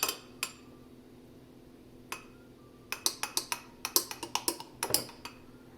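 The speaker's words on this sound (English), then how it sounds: "Give me a spoon. Just want to mix it just a bit." A spoon stirs a drink in a glass, giving sharp metallic clinks: a few scattered taps at first, then a quick run of rapid strikes against the glass, close and clear.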